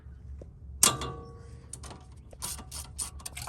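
A ratchet with a socket turns a bolt on a Toyota 3.4L 5VZ-FE V6 engine during oil cooler hose work, giving a sharp metallic knock followed by quick, close ratcheting clicks.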